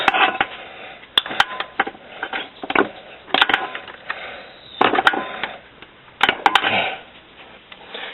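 9/16 bolts are loosened on the transfer case of a 1990 Jeep Cherokee, giving irregular metallic clicks and clinks of a wrench and hardware, close and fairly loud, with scraping in between.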